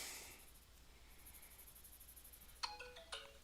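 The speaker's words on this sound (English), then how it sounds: "Oops, that was my phone." A mobile phone notification chimes as a few quick bright tones near the end, fairly faint over a soft, hissy room background.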